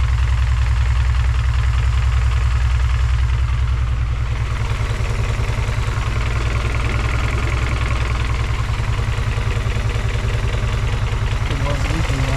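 An engine with a K series manifold idles roughly, with a loud, close, low rumble and uneven pulsing held steady by light throttle; a voice talks over it partway through.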